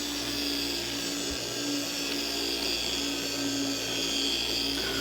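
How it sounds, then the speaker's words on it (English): A car polisher on its third speed setting working ShineMaster compound into paint, a steady high-pitched whine with a constant motor drone, close and continuous for the whole stretch. "The polisher will be set on the 3rd speed setting."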